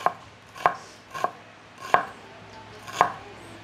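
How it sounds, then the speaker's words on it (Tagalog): A knife finely chops onion and garlic on a board, five distinct, sharp cutting taps spaced unevenly about half a second to a second apart, close and clear with no talk. "Ganito dapat kanipis yung pag-chop natin ng onion and also the garlic"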